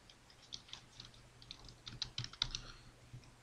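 Faint, scattered keystrokes on a computer keyboard while writing a Python program in Notepad, soft irregular taps that cluster into a quicker run midway, over a low background hum.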